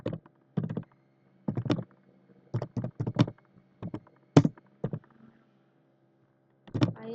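Computer keyboard keys tap out HTML form code in short, close bursts of clicks separated by pauses, distinct and dry with no talk.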